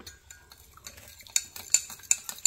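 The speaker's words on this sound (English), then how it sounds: "I'm going to stir this up" A utensil stirs crystals into hot water in a glass, giving light, irregular clinks and scraping taps that grow a little louder toward the end.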